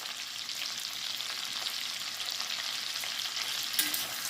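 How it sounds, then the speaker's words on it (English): Beans with garlic paste and pepper being stirred in butter and olive oil in a pan, giving a soft continuous sizzle with faint shuffling of the spoon, fairly quiet and steady, no talking. "we're just going to stir these guys a bit. Get them all covered in our wonderful butter and olive oil."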